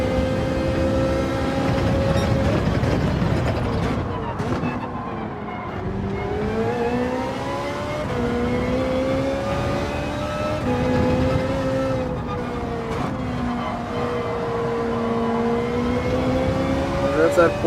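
Porsche race car engine in Gran Turismo 7, revving and shifting continuously with rising and falling pitch, loud and sustained, with speech faintly underneath.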